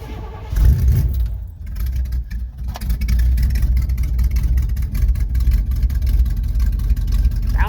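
A 1971 Chevy C10 pickup truck engine starts cold on choke, then settles into a loud, steady, rough idle with a low rumble that stays close and fills the rest of the clip.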